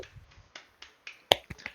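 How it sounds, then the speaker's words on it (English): A few sharp, dry hand claps ring out near the end, loud and isolated against a faint murmur, during a tabletop role-playing game session. "Claps, claps."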